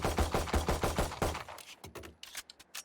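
A Valorant gun empties a full magazine in a rapid burst of loud, close shots that slow and scatter toward the end, followed by trailing clicks and the weapon being handled.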